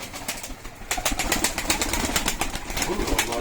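Pigeons near a coop, with soft cooing and a run of sharp, rapid flutters like wingbeats that sound fairly close, over a quiet background and no speech.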